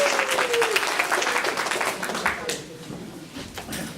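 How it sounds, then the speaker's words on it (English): Morning meeting audience applauds warmly, a dense steady patter of clapping that gradually thins toward the end, with some background voices mixed in. "Can I get a warm applause for Calvin?"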